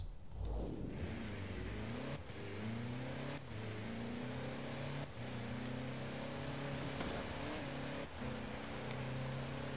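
Ford Ranger Raptor pickup engine in Forza Horizon 4, a steady droning roar with climbing pitch through several gear shifts, each marked by a brief dip, continuous and without talk.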